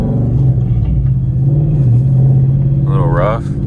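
A car with a stage 4 clutch pulls away in first gear, its engine holding a loud, steady low drone with a slight rise near the middle, and a voice speaking over it toward the end.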